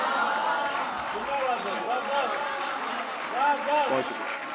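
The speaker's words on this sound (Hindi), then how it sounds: "जोरदार तालियां एक बार भाई" An audience at a 2025 mushaira, an Urdu poetry gathering, applauds steadily for several seconds, with voices calling out and speaking over the clapping.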